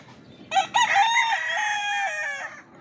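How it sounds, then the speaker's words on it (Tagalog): A rooster lets out one loud, drawn-out crow nearby, opening with a couple of sharp bursts before the long call trails off. "Ayun, mga alagang manok dito."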